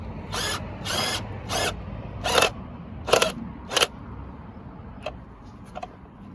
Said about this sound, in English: I think you hammer this in slightly, and then for the last bit you screw it in